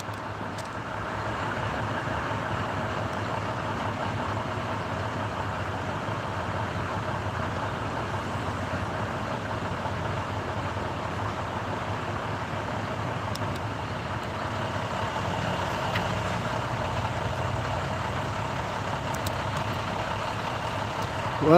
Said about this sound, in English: All the extra noise from the diesel.